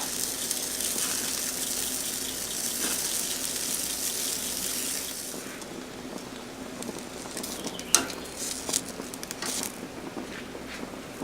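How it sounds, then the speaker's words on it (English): Bratwurst dropping into a beer bath for a July 4th cookout, a steady watery gush and patter throughout, with a few small splashy clinks near the end and no talking. "We're going to drop them into our beer bath."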